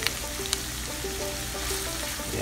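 Tofu sizzling in a pan with mayonnaise, a steady close frying hiss with a few faint clicks of stirring, no talk.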